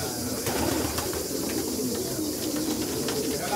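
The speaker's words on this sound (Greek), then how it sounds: "Ωραία τα αλατζάκια," Alatzades breed pigeons cooing in a loft, layered soft coos and throaty calls from several birds nearby, continuous and fairly loud with someone talking faintly.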